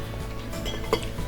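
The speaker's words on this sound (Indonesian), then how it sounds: "Ustaz makannya pakai sendok." A spoon clinks against a dish during a meal, giving a couple of soft, brief metallic taps over quiet room noise, fairly faint and close.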